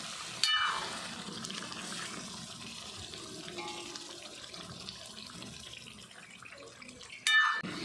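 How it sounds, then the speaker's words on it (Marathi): Chicken cooking water is poured into a pan of chicken rassa while it is being mixed, a faint, soft running-water sound with a brief louder splash near the start and again near the end. "हे जे शिजवून घेतलेलं थोडंसं पाणी आहे ते घालायचं आहे यामध्ये"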